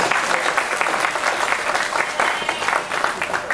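A crowd at a county fair meat goat show applauds the exhibitors, a dense, even wash of clapping held at a steady level from start to finish.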